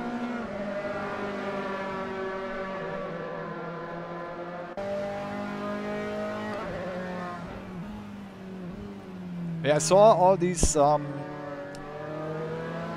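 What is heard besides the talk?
Formula 3 race cars racing in a sim racing video game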